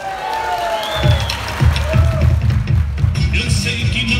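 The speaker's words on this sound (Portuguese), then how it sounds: "vamos receber com uma grande salva de palmas o grupo Estância Gaúcha" An audience at a strawberry festival cheers and claps to welcome a gaucho dance group, a dense burst of applause and whoops rising after a second and continuing throughout.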